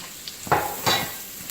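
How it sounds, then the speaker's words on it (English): Onions and garlic being sautéed in a pan for a spicy chicken stir fry, with two short bursts of sizzling and stirring over a quiet background, fairly faint and close. "So I'm going to saute my onions and garlic."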